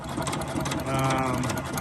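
A 3 hp Famous engine runs mounted on handmade drop frame trucks, chugging steadily and loudly up close with a dense, rapid mechanical rattle throughout.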